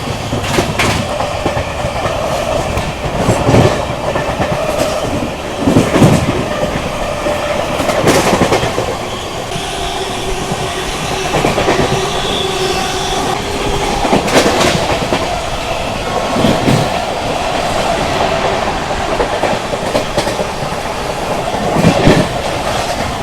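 The New Delhi–Sealdah Rajdhani Express rushes past close by, a loud steady roar cut by regular clickety-clack wheel beats over rail joints, with no voices.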